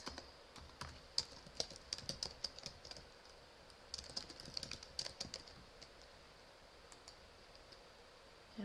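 Someone typing an address on a computer keyboard, quick bursts of light key clicks in an uneven rhythm with short pauses, close and quiet.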